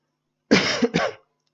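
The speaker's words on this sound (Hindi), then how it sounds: "खांसी आ रही है बेटा, बीच बीच में साउंड आएगा आपको" A loud, close cough in two quick bursts, harsh and throaty, alone against silence.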